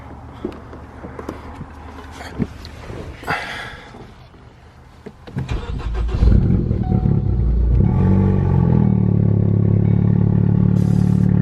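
A Ford vehicle's engine cranks and starts after a transmission replacement, with a few clatters and knocks before it catches around midway and then settles into a loud, steady idle close by.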